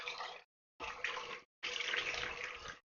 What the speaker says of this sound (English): Ooh, lovely water noises.